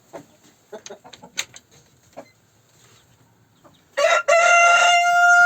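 A grey Australorp rooster crows loudly and close by, one long sustained harmonic call that follows a stretch of quieter scattered clucks and rustling.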